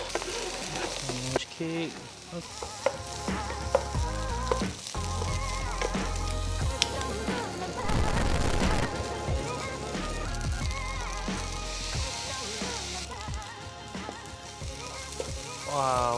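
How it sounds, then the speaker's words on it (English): Egg fried rice with carrot stir-fried in a pan, with continuous sizzling and frequent metal spatula scrapes and clanks against the pan, close and busy, while a person talks briefly over it. "So for fried rice, as usual, stir fry and make sure it's separated"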